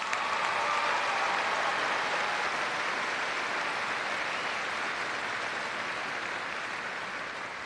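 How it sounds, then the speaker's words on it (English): An audience at a spring university commencement ceremony applauds the faculty, a broad, even wash of clapping from a large crowd, held steady and slowly tapering. "Please join me in applauding the faculty for their service to OSU"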